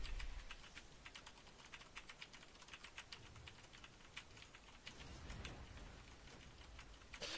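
Rapid bursts of clicking keys on a new mechanical keyboard, close and quiet, tapping in a busy irregular stream over steady background noise without any talk.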